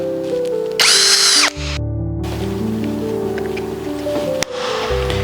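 A power drill driving out screws from the end cap of a ZIP blind, a short loud whirring burst near the start, then quieter tool handling and clicks.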